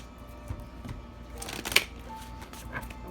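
Tarot cards are shuffled nearby in quick soft riffling bursts, with a sharper flurry midway.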